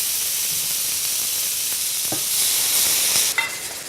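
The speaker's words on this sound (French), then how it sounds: "J'ai retourné le saumon, je vais rajouter le jus d'orange pour qu'il ait le temps de bien réduire." Salmon fillets fry in a pan as orange juice is poured in, giving a bright, continuous sizzle and hiss close up that grows a little louder toward the end before stopping abruptly, with no voices.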